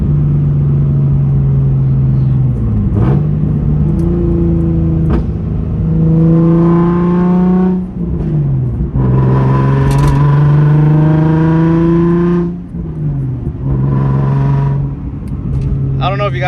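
Nissan 350Z driving on the road, engine rising in pitch through several accelerating pulls separated by brief dips at gear changes and a downshift, steady and fairly loud from inside the car.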